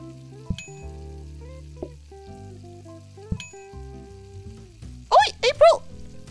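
Stir fry sizzling on a cooking station in the kitchen game PlateUp!, a steady frying hiss mostly buried under bright game music chimes, with a few short voice-like bursts near the end.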